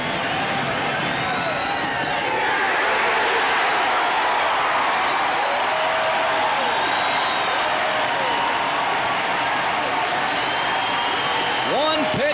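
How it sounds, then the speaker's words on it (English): A crowd of about 5,200 at the 1989 Southwest Conference baseball tournament championship, Texas A&M against Texas, roars and cheers in a loud, sustained wall of noise with applause throughout, and a voice is faintly audible beneath it. "We'll let the crowd tell you about it."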